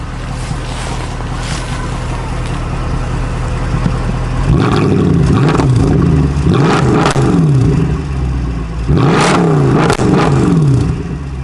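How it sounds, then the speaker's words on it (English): A Mercedes W204 C63 engine is blipped in several loud revs, each a rising and falling roar, after a few seconds of steady idle rumble nearby with some wind noise. "So let him go quickly, and then I'll give it a little rev."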